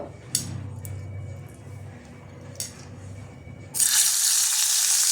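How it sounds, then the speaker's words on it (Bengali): Bhola fish pieces slide into hot oil in a wok after a few light clinks of utensils, and a loud, bright, hissing sizzle erupts suddenly and keeps crackling steadily up close. "এবার মাছগুলোর থেকে মশলাটা একটুখানি সরিয়ে আমি মাছগুলো ভেজে নেব"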